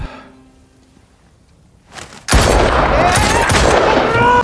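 In a film scene, after a quiet, hushed stretch, a sudden loud burst of rapid gunfire erupts and keeps crackling in a dense, continuous volley.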